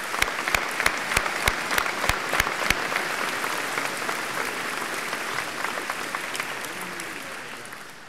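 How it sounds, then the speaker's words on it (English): A church congregation at a patriotic worship service breaks into sustained applause with a few sharp claps standing out early, then settles into a steady, full-room clapping that slowly tapers. "join me in giving a round of applause to all of those who are"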